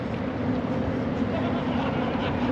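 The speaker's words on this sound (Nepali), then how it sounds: "यहाँ चाहिँ एउटा सानो बोट आइरहेको छ।" Small boat motoring across the river below the Ponte 25 de Abril in Lisbon, a steady low engine hum mixed with wind and water wash, continuous and moderately near throughout.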